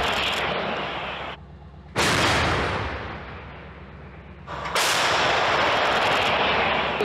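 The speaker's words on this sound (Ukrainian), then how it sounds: "Самохідну артилерійську установку краб калібру 155 мм." Two loud, booming blasts from a 155 mm Krab self-propelled howitzer, each a sharp crack followed by a long roaring rumble that fades out.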